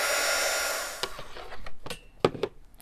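A hair dryer blowing on a wet watercolor poppy painting runs loud and close for about a second, then cuts off, leaving brief handling knocks and small thumps.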